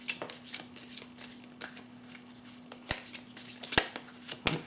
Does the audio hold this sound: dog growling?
no